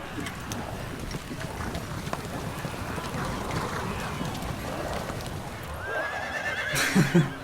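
Horses pulling carriages in the video game Blue Dragon, with whinnies and clip-clopping hooves over a steady dense bed of game noise, a brief louder burst near the end.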